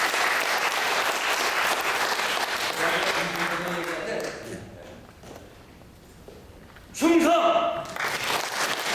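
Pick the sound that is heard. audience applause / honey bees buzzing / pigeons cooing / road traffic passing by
audience applause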